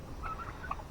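Turkeys on a farm pasture give a few short gobbling calls at moderate distance, fairly faint over low background rumble.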